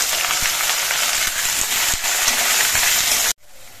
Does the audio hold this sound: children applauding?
no